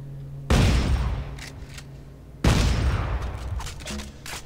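Two heavy shotgun blasts boom in the Dead Space 3 video game, each a loud burst with a long rumbling decay, spaced about two seconds apart.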